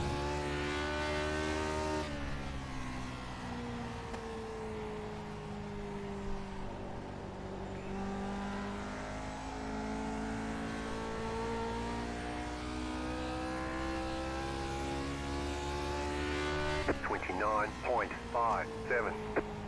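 Race car engines droning on the Phoenix oval in iRacing, a steady tonal whine rising and falling slightly as the cars circle, with a brief burst of clatter near the end.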